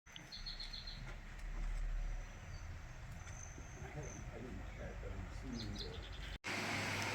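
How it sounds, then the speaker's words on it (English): Birds singing in a nature garden and bird sanctuary in Santa Fe, with repeated high chirps and trills over a constant insect-like buzz and outdoor background, plus a brief bump of louder noise. "You can really hear those birds."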